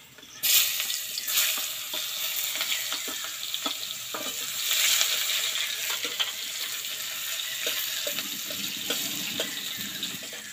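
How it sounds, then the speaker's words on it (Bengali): Onions fry in a pan for katla fish kalia, a bright continuous sizzle close by, punctuated by intermittent stirring scrapes and light utensil taps, without speech. "পেঁয়াজগুলো ভেজে নেবো এবার"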